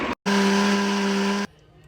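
Blender whirring through soybeans and water for taho, a loud steady motor buzz with a strong tonal hum that starts abruptly after a brief click, runs about a second, then cuts off to quiet.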